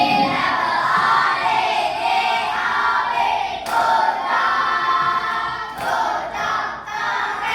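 A classroom of sixth-grade children claps and shouts together in a loud group chant, with rhythmic bursts of clapping under excited voices at close range.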